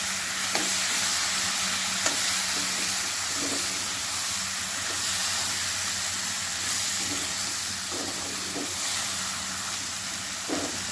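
Bhindi masala, okra cooked in a pan, sizzles and fries steadily while a utensil stirs and scrapes through it with occasional knocks against the pan. The hiss stays constant throughout and no one speaks.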